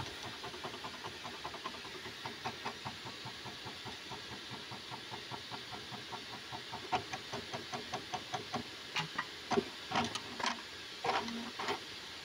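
A JUKI MEB-3200C eyelet sewing machine runs through a manual test cycle, giving a steady rapid mechanical clatter of repeated stitching strokes with sharper clicks and thumps near the end, fairly close and with no voices.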